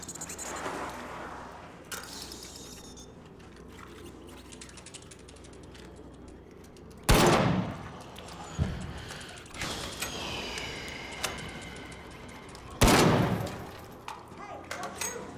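Sporadic video game gunfire in Arc Raiders crackles in a few sharp bursts, including two loud close shots, between quieter mechanical clicks and rattles.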